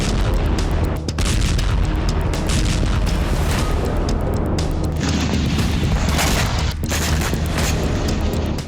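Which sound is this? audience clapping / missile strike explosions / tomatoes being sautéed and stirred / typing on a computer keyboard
missile strike explosions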